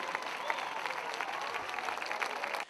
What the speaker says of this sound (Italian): chiedo di fare un grande applauso per questo grande pubblico